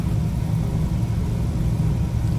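A Lamborghini Huracan engine in the Assetto Corsa EVO racing game drones loudly and steadily, a deep continuous rumble at cruising revs with no talk over it.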